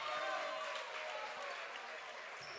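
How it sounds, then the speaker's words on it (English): Crowd at a girls' high school basketball game cheering and applauding as a player enters, heard as a broad, steady roar of clapping and cheers at moderate distance, with a commentator speaking over it. "Big crowd pop for number 23,"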